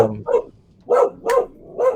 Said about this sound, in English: Is there a dog?